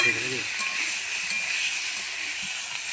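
Boiled potatoes fry in a pan for a Bengali potato and pointed gourd prawn curry, a steady close sizzling hiss with faint stirring scrapes and a short murmur of voice at the start.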